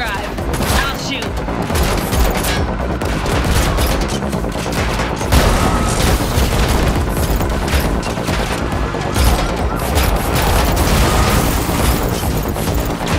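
Sustained gunfire fills a car-chase scene in the video game The Matrix Awakens, rapid loud bursts and booms continuing without pause over engine roar and other action noise.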